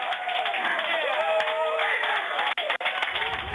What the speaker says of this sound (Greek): Στο κέντρο ελέγχου της NASA στην Καλιφόρνια ξεσπούν χειροκροτήματα.